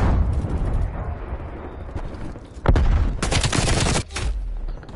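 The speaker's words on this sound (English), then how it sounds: "Now I'm forced to use the shotgun." Shotgun blasts in a Call of Duty match: loud, close booming shots and a dense stretch of rapid gunfire with rumbling echoes, with no voices heard.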